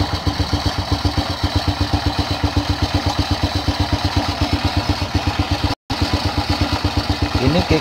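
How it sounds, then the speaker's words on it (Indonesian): Close up, an old original Honda Astrea Star motorcycle idles smoothly with an even, rapid putting beat that holds steady throughout, briefly cut by a short dropout. "Suara mesin halus."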